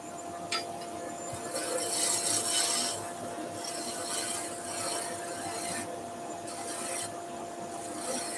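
A wooden pen blank spinning on a wood lathe takes tiny cuts, with repeated rasping, scraping bursts of tool on wood at close range and short pauses between passes.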